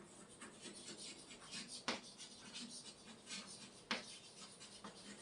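Pen scratching steadily across a writing surface while the general solution of a Cauchy-Euler differential equation is written out, a soft, close, continuous scribble with two sharper taps, no talking.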